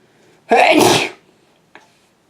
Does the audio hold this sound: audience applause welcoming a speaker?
no